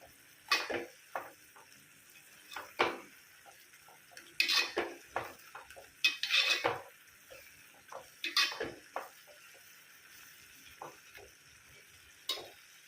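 Onion paste and ginger paste fry in a pan while a metal spoon stirs them, giving intermittent scraping clinks against the pan over a soft, low sizzle with quiet pauses between strokes.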